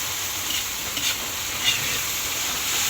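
Shrimp frying in a pan for a home-cooked noodle dish, giving a steady, close sizzle and hiss with faint stirring clicks throughout, with no talking.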